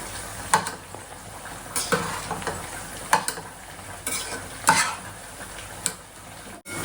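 Mint, coriander, fenugreek leaves and onions frying in oil for Telangana bagara rice, a steady close sizzle broken by several sharp scraping stirs and clinks of a spoon against the pan.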